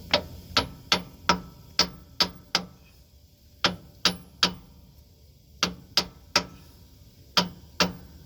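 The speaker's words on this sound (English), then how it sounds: "hit it with a hammer just so you can put it in" A hammer strikes a pinion yoke seal on a Freightliner Cascadia truck axle, driving it into place in sharp, ringing blows that come in quick bursts of three to five with short pauses between.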